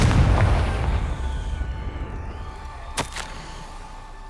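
A Confringo blasting spell goes off in Hogwarts Legacy: a loud rumbling burst fades over a few seconds, then a sharp crack hits near the end.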